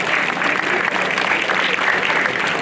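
A crowd at a school 9/11 memorial ceremony claps steadily and loudly throughout, a dense, sustained wash of applause with no pauses.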